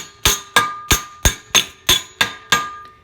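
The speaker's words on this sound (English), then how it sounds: "I'm gonna keep tapping them until they slowly start bending" A hammer taps metal speaker brackets on a 2011 Jeep Wrangler JKU to bend them. About eight sharp, ringing metallic strikes come at an even pace, each one decaying quickly, close up with no voices.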